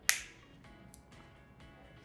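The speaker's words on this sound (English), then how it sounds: "once I snap my fingers, you open your eyes" A single sharp finger snap from a hypnotist right at the start, close and crisp, followed by quiet room tone with a couple of faint clicks.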